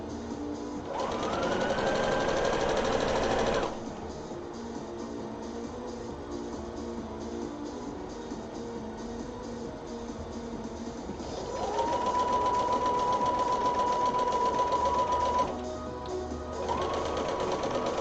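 A sewing machine stitches darts in two sustained whirring runs separated by a quieter stretch, with a rising motor whine at the start of each burst, close and without talk.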